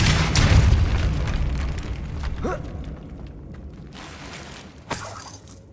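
A Depulso spell in Hogwarts Legacy fires off as a loud, booming magical blast with a rumbling mechanical tail, followed by fainter effect sounds and a short sharp crack near the end.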